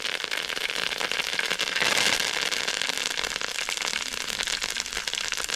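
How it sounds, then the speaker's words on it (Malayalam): Mustard seeds crackle and spit in hot coconut oil, a dense, continuous popping spatter that stays loud and close throughout with no talking over it. "വെളിച്ചെണ്ണ നന്നായിട്ട് ചൂടായിട്ടുണ്ട് അതിലേക്ക് ആവശ്യത്തിന് കടുക് ഇട്ട് കൊടുക്കാം കടു ഒന്ന് പൊട്ടുമ്പോഴേക്കും"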